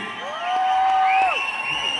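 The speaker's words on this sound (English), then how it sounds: "I can hear your applause when they shout your name" An audience at a Kerala film promotion event for RRR and Minnal Murali cheers and whoops loudly, shrill shouts rising over a wash of crowd noise for a couple of seconds.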